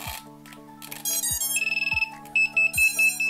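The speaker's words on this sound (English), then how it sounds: "that continual beeping will suggest that it's ready to be linked." DJI FPV goggles beep steadily while waiting to link with the air unit, giving a series of short high electronic beeps in a regular rhythm, with brief gaps and a fainter tone underneath.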